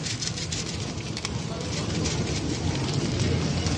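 Dried red chilli, panch phoron and cumin sizzle in hot oil in a pan, a dense, steady crackling hiss that fills the whole stretch at close range.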